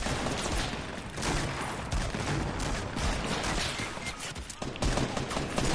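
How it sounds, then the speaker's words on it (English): Dense, continuous gunfire fills a video game firefight, with overlapping rapid bursts and shots from several weapons at close range and a fairly steady level throughout. "Wait, I'm getting shot from somewhere else"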